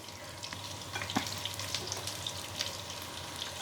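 Whole coconut pieces fry in coconut oil with a soft, continuous crackling sizzle and small pops, faint and close, with no voices.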